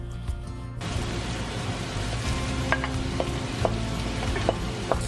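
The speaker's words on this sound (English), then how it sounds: "Saute the veggies until they are nice and soft, about 10 minutes." Chopped yellow onion and celery sautéing in cooking oil in a pan, a steady loud sizzle with occasional stirring clinks and scrapes, no voices.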